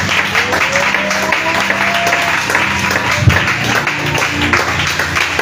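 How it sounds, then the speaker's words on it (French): A church congregation applauds and cheers in praise of the Lord, sustained clapping with voices calling out, a dense crowd sound at moderate loudness throughout. "Est-ce que tu peux acclamer puissamment le Seigneur?"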